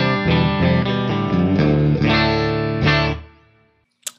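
Electric guitar played through a clean Fender Deluxe Reverb amp with no boost: several full, ringing chords strummed in a steady rhythm, close and loud, then left to fade into silence before a brief final pluck.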